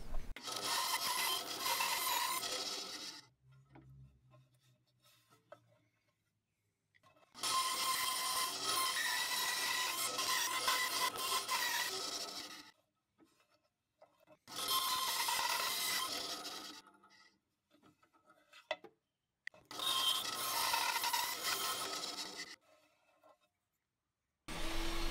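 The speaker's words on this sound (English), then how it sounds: "I'll cut out the triangular shape, stopping the bandsaw to remove the waste pieces" Bandsaw cutting a triangular shape in wood, four sustained bursts of whining, rasping cutting noise separated by quiet gaps where the saw stops, close and fairly loud.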